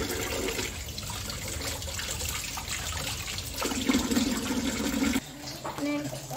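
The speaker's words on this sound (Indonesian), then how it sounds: "Ayamnya sudah aku potong-potong, akan saya cuci ya" Running water rinsing cut chicken pieces in a kitchen for nasi uduk: a steady splashing stream with sloshing surges as the meat is moved about, loud and close, with some talk over it.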